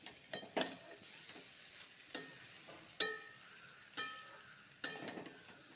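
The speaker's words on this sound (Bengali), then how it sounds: "এই মশলাগুলোর সাথে ভালো করে স্কোয়াশ আলুটা ভেজে নেব।" Squash and potatoes fry with spices in a pan for a curry, with scattered sizzling and a handful of sharp clacks of a spoon stirring against the pan, close and fairly quiet, no voices.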